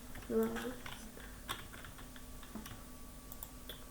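Keys tapped on a computer keyboard while entering text into a game cheat tool, a few scattered clicks at close range with one short voice-like sound near the start.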